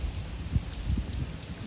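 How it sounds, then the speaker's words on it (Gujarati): Light rain that has grown a little heavier patters steadily close by, a soft continuous hiss with a few dull drops landing nearby. "થોડોક વરસાદ વધ્યો"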